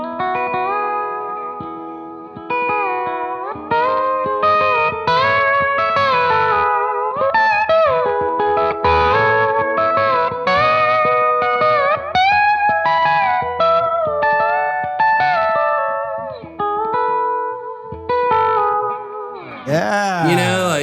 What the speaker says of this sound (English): this is kind of more in tune with playing it with the slide. Okay. And I like to mimic pedal steel.